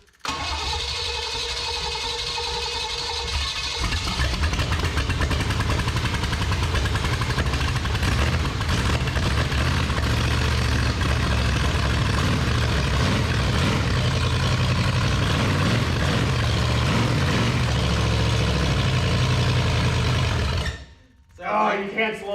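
A square body dually truck's engine starts and then runs rough and fast near idle, a loud, steady mechanical roar that cuts off abruptly near the end, with voices talking over it.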